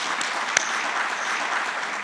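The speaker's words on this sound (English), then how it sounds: "I think that deserves a round of applause." Audience applause at a global media forum opening, a steady, moderately loud wash of clapping heard alone for the full moment, with one sharper click near the start.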